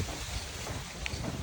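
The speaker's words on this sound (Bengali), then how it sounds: "বাতাস!" Wind gusting across a rooftop garden on a cloudy day, a steady broadband rush with buffeting on the microphone, no talk.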